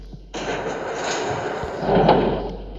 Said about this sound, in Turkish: takınca kapı açıldı.